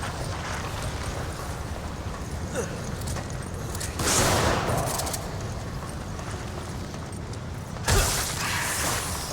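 Resident Evil 5 gameplay: a dense, continuous wash of gunfire and combat noise, with louder shotgun-like blasts bursting out near four and eight seconds over a steady, noisy background.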